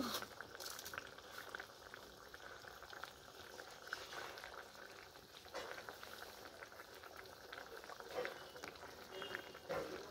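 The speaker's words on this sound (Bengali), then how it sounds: "এবার মাছটা ফুটুক, ফুটে একটু গা মাখা হবে" Fish curry simmering in a pot in a home kitchen, a faint, steady bubbling and popping with small sputters throughout, no voices.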